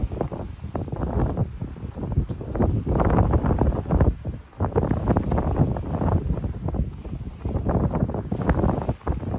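Strong wind at a campsite buffets and roars across the microphone in continuous gusts, with brief lulls, loud and close throughout.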